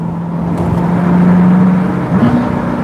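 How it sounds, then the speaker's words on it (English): A Chevrolet Corvette C7 Z06 engine hums steadily from close range, then its pitch steps up sharply near the end as it revs on a downshift. "Get ready for this downshift."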